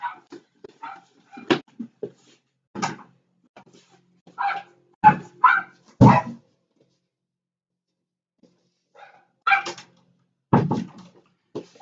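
A pet dog barks and whimpers in a home during an online Octave programming lesson, giving scattered short yips and barks in irregular bursts, near and fairly loud, with no talk over them.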